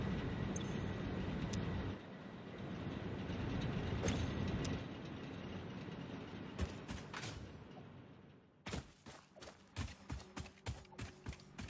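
Factory machines turning out screws and plates in the building game Satisfactory, a dense mechanical hum and whir that drops away and gives way to rhythmic clanking strokes repeating roughly every half second.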